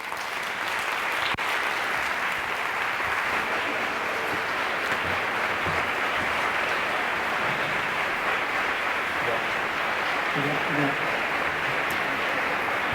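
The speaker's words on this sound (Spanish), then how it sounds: "Un aplauso mayúsculo para Zoraida González." Sustained, loud applause from a science club audience welcoming a speaker, a dense wash of clapping lasting throughout with faint voices mixed in.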